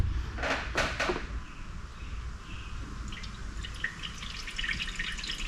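Water splashing and dripping while a truck radiator is filled, starting with a few loud splashy bursts, then settling into light scattered drips and trickles close by.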